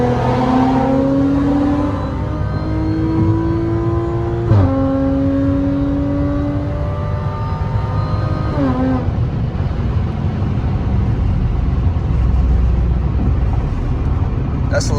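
A car accelerates hard in a 60 mph roll race, engine note climbing steadily through gear changes, loud and close from inside the cabin, with road and wind noise throughout.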